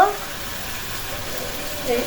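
Mixed vegetables for a chicken vegetable curry fry in a pan, giving a brief, steady, close sizzle.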